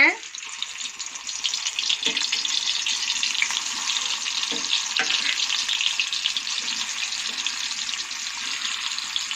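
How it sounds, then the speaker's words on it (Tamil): Hot oil in a pan on the stove crackles steadily throughout, a dense even sizzle with a few faint knocks underneath. "இப்போ நான் வந்து சட்டி அடுப்பில் வச்சுட்டேன் பாருங்கள் ஐம்பது மில்லி எண்ணெய் ஊற்றிக்கிறேன்"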